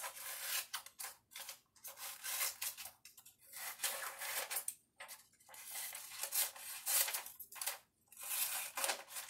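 Scissors snip and slide through paper while cutting out rectangular shapes for a craft, in close repeated strokes with short pauses between cuts.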